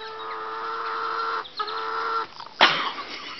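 Chickens clucking and squawking up close in a sustained, tonal run, a brief pause, more calling, then a sudden sharp squawk near the end, with no talk.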